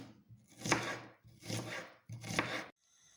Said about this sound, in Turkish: Bunun için soğanları nazik halka şeklinde doğrayıram.